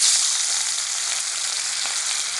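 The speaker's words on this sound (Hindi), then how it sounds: "देखिए तेल गर्म हो गया उसमें अभी ये मछली हम फ्राई करने के लिए" Fish for a raw mango fish curry fries in hot mustard oil with a loud, dense, unbroken sizzle right up close, and no one talks over it.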